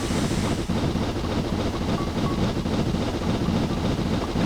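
A simulated steam locomotive hauls its train on the Settle to Carlisle line in Train Simulator 2017, giving a steady, loud rumble of running gear with faint clickety-clack over the rails and no talk.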